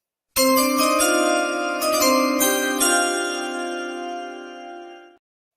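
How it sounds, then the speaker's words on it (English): A chime sound effect rings out alone with a bright metallic strike, then a few quick follow-up hits, and the tones hold and slowly fade over about five seconds. "Hit the chimes, baby."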